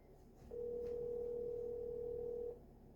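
A steady telephone dial tone sounds for about two seconds while calling a mother on the phone, loud and continuous, with faint room noise before and after.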